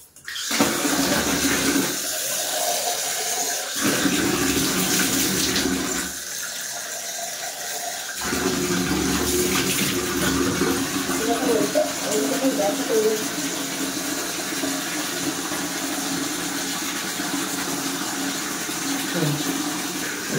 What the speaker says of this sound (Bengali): এখন কিন্তু আমি মুখটা ধুয়ে নিচ্ছি।